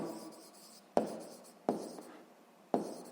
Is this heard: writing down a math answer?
yes